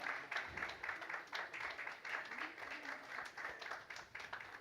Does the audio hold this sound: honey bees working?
no